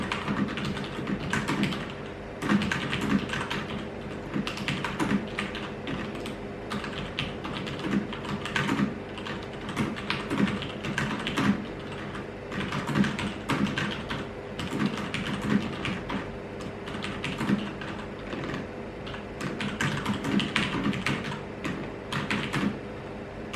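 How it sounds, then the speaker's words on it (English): Fast typing on a Cherry MX Board 2.0 office keyboard with linear Cherry Red switches, a steady dense patter of keystrokes close up with no talking. "let me go show you how this thing sounds when you're typing a bit fast."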